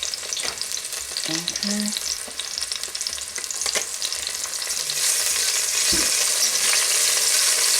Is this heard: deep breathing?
no